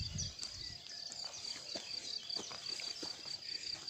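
Crickets and other insects drone steadily outdoors in a quiet natural setting, a faint continuous high buzz with soft scattered bird notes and no talking.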